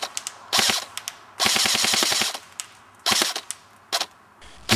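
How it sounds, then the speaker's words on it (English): An AEG airsoft gun fitted with a Burst Wizard King Kong fires short two-shot bursts set with full auto rollover, sharp mechanical cracks in separate clusters with brief gaps, one misfire before it resumes, loud and close with no talking. "You can hear it misfire once, and then it catches back up and continues firing correctly"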